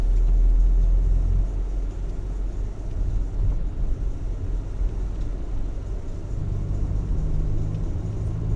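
A car drives through Strzemieszyce along a city bus route, its engine giving a steady low rumble with constant road noise throughout, no voices present.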